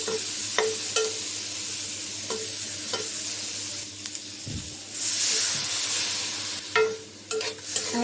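Garlic paste frying with small shrimp and greens in a pan, a continuous sizzle broken by sharp spoon scrapes and clinks as the mixture is stirred, close and fairly loud, with no talking.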